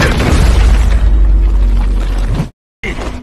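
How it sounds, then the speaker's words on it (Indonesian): Animated big explosions burst in the sky, a deep rumbling boom rolling loudly for over two seconds, then a sudden cut to silence before another blast begins. "Pertarungan terus berlanjut menimbulkan ledakan-ledakan besar di atas langit."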